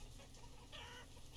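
Hens clucking in the farm city-builder game Banished, a short burst of fowl calls rising briefly over a steady game ambience, moderately near with no talk.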